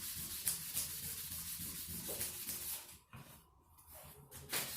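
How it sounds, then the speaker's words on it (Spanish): Fine sandpaper rubs over a metal piece in quick back-and-forth strokes, a soft raspy hiss that repeats steadily before pausing briefly, then resumes close by and fairly quiet. "y seguimos lijando"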